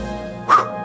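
A cartoon dog from the Wii Party video game gives a single short bark, bright and loud over a soft game-music background.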